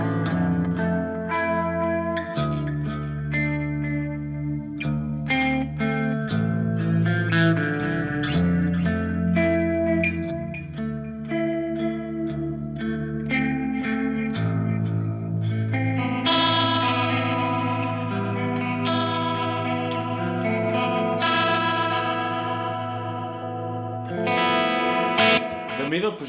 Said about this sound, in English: Also, this fuzz is the best fuzz ever,